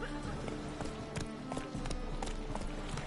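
Hoofbeats of Roach, Geralt's horse in The Witcher 3: Wild Hunt, clatter in a rapid gallop rhythm alongside game ambience and some voice.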